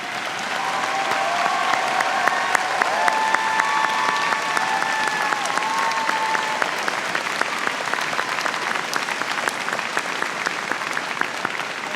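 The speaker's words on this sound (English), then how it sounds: "could I ask the faculty to stand and receive our applause?" A commencement audience at Berea College's 2018 ceremony applauds the standing faculty with sustained, dense clapping from a large crowd. A few whistles rise above it, and the applause stays strong throughout.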